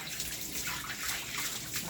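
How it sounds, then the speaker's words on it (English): Tap water runs steadily during a puppy's bath, a continuous close splashing hiss with no pauses and no voices. "We can turn that water back up now."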